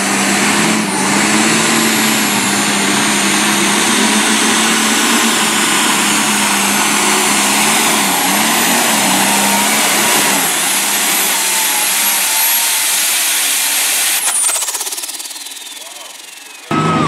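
A tractor engine at a tractor pull event, a loud, sustained, roaring whine held at high revs for a long stretch, then easing off and fading before a sudden final burst.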